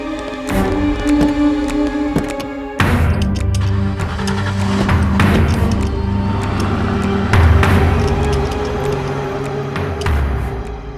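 A car engine turns over and settles into a steady hum, then revs and pulls away at about the three-second mark, staying loud and close throughout.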